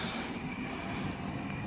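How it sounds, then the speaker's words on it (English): A suburban train runs through a station past the platform without stopping, a steady rumbling roar with faint hiss and rail tone, moderately close and continuous with no voices. "a train about to go past platform number 1, not in service"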